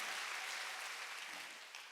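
A church congregation claps in a dense burst of applause that gradually fades over about two seconds, sounding somewhat distant and soft.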